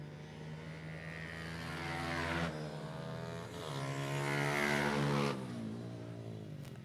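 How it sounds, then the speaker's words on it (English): Motocross dirt bikes at a youth race, including a Kawasaki and a two-stroke Suzuki RM85, revving and racing past on the track, engines rising and falling in pitch as they approach and pass at moderate distance. "Rider number 10 on the Kawasaki, Jordan Getz"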